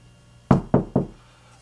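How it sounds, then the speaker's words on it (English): Three sharp knocks on wood, close and evenly spaced, ringing out alone in a quiet room. "knock on wood"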